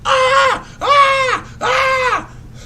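A woman on a zip line lets out three long, high-pitched screams in quick succession, each rising and falling in pitch with short gasping gaps between, loud and close with no other voices.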